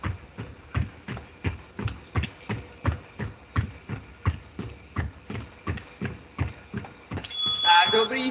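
Steady, evenly spaced thumps of feet hitting the floor, then a small bell rings brightly near the end and lingers for a moment.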